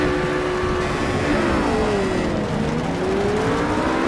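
RUF GT3 race cars pull away from a standing start in the Project CARS racing game at Catalunya in the rain, engines droning loud and steady with rising and falling pitch as they accelerate.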